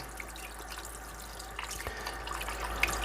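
Tap water runs steadily over a whole Coturnix quail carcass being rinsed and scrubbed inside, a soft continuous trickle with small splashes, fairly quiet and close.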